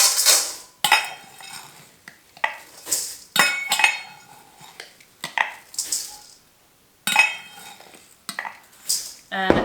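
Dry granola ingredients go into a large bowl in a kitchen, with repeated clinks and clatters of utensils, containers and dishes interrupted by short pauses.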